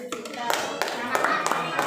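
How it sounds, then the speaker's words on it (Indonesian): Applause from a primary school class, a dense patter of hand claps with voices mixed in, fairly close and steady for a couple of seconds. "Kasih tepuk tangan"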